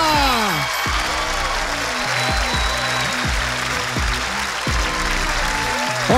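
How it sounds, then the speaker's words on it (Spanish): Loud, steady applause from a live audience at a comedy show finale, sustained for several seconds while pitched sweeps of music or effects rise and fall over it. "más fuerte ese aplauso"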